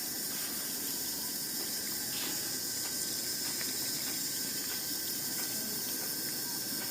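Water pours and splashes steadily in a continuous hiss as pepper plants in grow bags are watered with fertilizer solution, with no talking.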